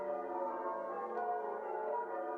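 Church bells ring on Christmas morning in a stage production of A Christmas Carol, a sustained, resonant tolling that hums evenly and moderately loud with no talking over it.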